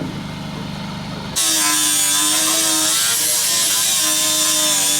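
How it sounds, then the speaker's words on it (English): A power grinder suddenly starts up on screws sticking out of a new skatepark ramp, giving a loud, continuous high-pitched grinding whine after a brief quieter moment. "Screws are sticking up a bit, so Dave's grinding them down."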